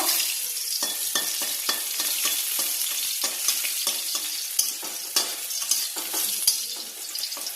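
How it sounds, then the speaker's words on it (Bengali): Chopped garlic fries in hot oil with a bright, continuous sizzle, broken by rapid scraping strokes of a spatula stirring the pan. "আগে রসুন কুচিগুলি লাল লাল করে ভেজে নেব।"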